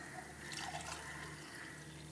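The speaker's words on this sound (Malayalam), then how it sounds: "അപ്പോൾ തേങ്ങാപ്പാൽ ഒഴിച്ചു കൊടുത്തു" Thin coconut milk pours into a Kerala-style egg curry in a pan, a faint, steady liquid splash and trickle lasting about two seconds with no talking.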